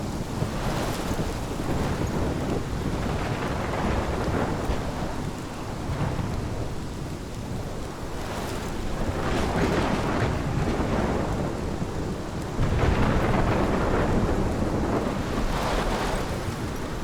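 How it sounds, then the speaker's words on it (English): A thunderstorm from the video game Life Is Strange: a steady roar of heavy rain and wind, with deep rolls of thunder rising and falling throughout, dense and continuous with no voices. "This is my storm."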